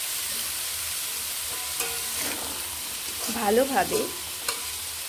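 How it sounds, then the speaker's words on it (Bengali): Boiled peas for ghughni being sautéed in a pan with masala, a continuous sizzle under brief stirring and scraping, with a voice speaking briefly near the end. "আমি এইভাবে সবগুলোকে একসঙ্গে কষিয়ে নেব।"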